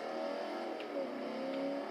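A car engine revs at a steady high pitch in the Forza 4 racing video game, a continuous droning whine that holds level throughout at moderate loudness with no talk.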